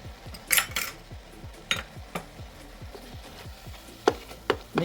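A spoon working jerk seasoning into a shrimp filling in a bowl, with quick repeated scraping strokes and several sharper clinks of metal against the dish, close and fairly loud.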